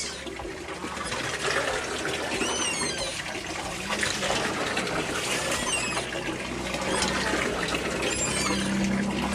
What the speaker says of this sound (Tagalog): isang bomba mo lang o isang ganun mo lang, ang daming tubig lumalabas